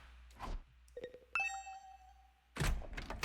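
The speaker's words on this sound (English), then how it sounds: "the sound of my doorbell ringing over and over" A video game doorbell chimes, a soft tone followed by a brighter ringing one that lingers, set between brief muffled noises.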